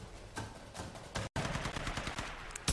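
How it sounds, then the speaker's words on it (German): Gunfire in the video game Tomb Raider on Xbox 360: a string of loud, close shots in quick bursts, with a brief silent gap midway before the firing resumes. "Muss ich in den Kopf schießen?"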